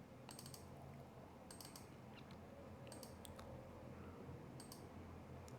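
Several sharp computer mouse clicks, in a few quick pairs, sound faintly against a steady background hiss, with no talking.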